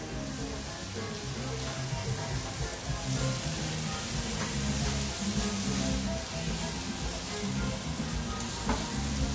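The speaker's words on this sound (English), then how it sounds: "so the prawns are going in." Prawns hit a hot pan and sizzle loudly and steadily, a dense continuous hiss of frying with faint stirring clatter underneath and no talk.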